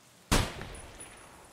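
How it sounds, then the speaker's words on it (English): A single sharp gunshot in Escape from Tarkov cracks out loud and sudden, then decays into a short echoing tail, with no voices. "Ooh, okay, you're firing at him."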